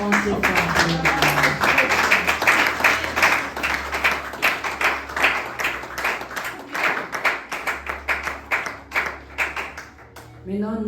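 Rhythmic congregational clapping at a French-speaking church service, steady and loud throughout, with voices and singing mixed in above the beat before it tapers off.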